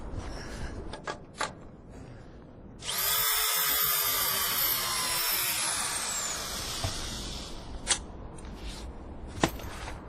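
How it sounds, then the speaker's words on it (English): A power tool tightens bolts during bridge repair, a sustained whirring burst of about four seconds that rises suddenly, set against low background rumble and a few faint knocks, fairly quiet overall. "And my job is bolt tightener."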